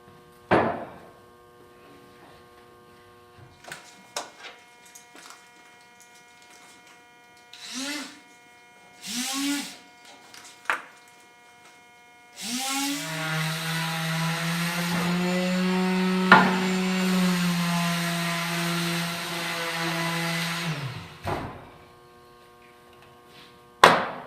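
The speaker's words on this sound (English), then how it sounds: "the last thing left to do is to sand the tabletop and then attach it to my table" A power sander works a tile tabletop. A few scattered knocks and handling sounds come first, then a steady, close motor whine runs for about ten seconds before stopping.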